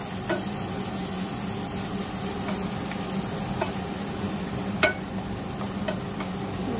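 A steady, moderate sizzle of ginger and garlic frying in a pan, with a few sharp scrapes and clicks of stirring.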